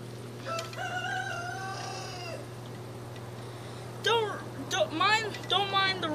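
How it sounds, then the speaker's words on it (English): A rooster crows nearby, with one long drawn-out call followed by a few shorter, choppy crows. A steady low hum sits underneath, with a moment of breathy talk in between. "Don't mind the rooster"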